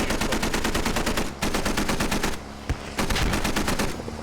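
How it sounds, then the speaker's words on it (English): Sustained rapid machine-gun fire from the video game Squad comes in loud, evenly spaced bursts with brief pauses between them. "Pony's getting shot at"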